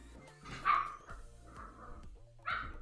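Puppies bark and yip in quick, excited bursts amid scuffling, a few sharp close calls standing out over a restless background.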